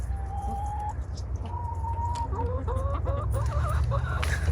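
Chickens in a backyard flock of about thirty cluck and call close by, with drawn-out tonal notes rising into a busy run of clucks over steady low background noise.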